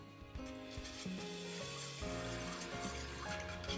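Sauce of mirin, sake, soy sauce, sugar, miso and yuzu kosho stirred in a bowl, soft continuous scraping and swishing under quiet background music, no voices.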